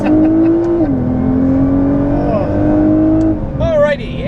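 A Nissan R35 GT-R in Mexico pulls away from a dead stop, its loud, close engine drone holding a steady pitch for several seconds before easing off, with a voice speaking near the end.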